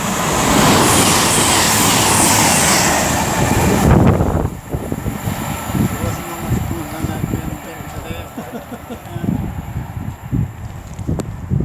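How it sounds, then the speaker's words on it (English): CrossCountry Class 221 unit 221124 on the Edinburgh to Plymouth service rushes past at Tamworth, a loud, close roar of wheels and engine that drops to a rumbling clatter of carriages as it goes by. "now approaching is going to be 221124 for cross country, working the service from Edinburgh to Plymouth"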